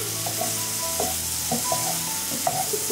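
Apple pie filling browns in an uncovered pan, giving a steady sizzle with soft scrapes and stirring taps at intervals, near and alone without voices.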